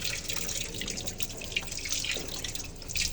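Water trickling and dripping in the courtyard of the Moulay Bouchaib shrine, a steady close splashing like a running tap into a basin, with no voices.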